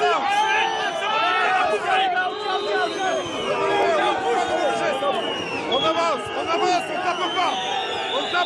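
Farmers pushing through a packed crowd at the Salon de l'Agriculture, a loud, close mass of overlapping shouts, calls and chatter that surges continuously around them.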